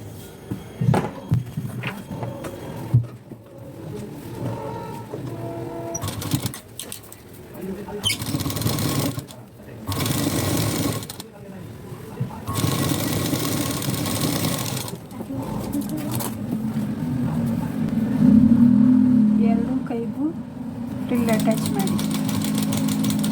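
A sewing machine stitches a frill onto a blouse sleeve, its rapid mechanical chatter running in repeated bursts of several seconds, alternating with pauses and someone talking close by.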